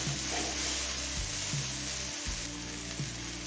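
Chopped tomato sizzles and fries in a hot pan for loti chicken, a continuous bright crackling hiss with a few soft stirring shifts, close and alone without any talk.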